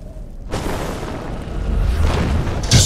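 A siege weapon blowing apart in Diablo 3 sets off a deep, rolling boom that fills nearly three seconds, with a sharper burst close to the end.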